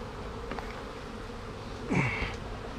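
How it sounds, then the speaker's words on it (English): Honeybees buzz around an opened hive being treated, a low continuous hum with a few individual bees zipping close past the microphone, one loud fly-by near the end. "For some reason, the honeybees are using the top entrance"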